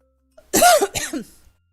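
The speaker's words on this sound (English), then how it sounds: "This is actually more coughing than I've done in a while." A woman gives a pair of quick, harsh coughs close to the microphone indoors amid extra dust from an air conditioner replacement, the second cough slightly softer, with silence around them.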